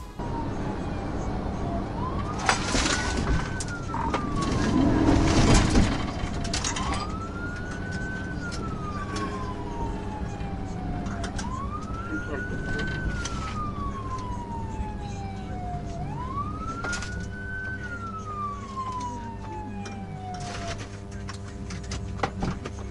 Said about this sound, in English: I then activated my emergency lights and siren to perform a traffic stop on the motorcycle.